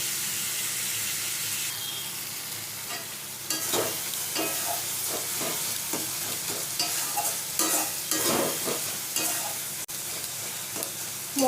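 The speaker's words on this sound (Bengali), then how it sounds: "মশলাটা ভালো মতন কষিয়ে নেব।" Masala spices for a Bengali jackfruit curry sizzle in a pan, with repeated scraping stirs and soft clatter over a steady frying hiss.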